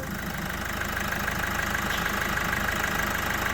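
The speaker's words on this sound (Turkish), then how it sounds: "arabanın sesi saat bir çalışıyor" Opel Mokka 1.6 petrol engine with 136 horsepower idling steadily, a continuous, fairly loud mechanical hum with a fine rhythmic ticking, recorded close to the engine and without talk.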